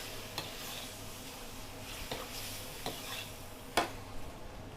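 Beef being stir-fried with oyster sauce in a wok, a faint continuous sizzle broken by occasional sharp scrapes and clinks of the utensil against the pan.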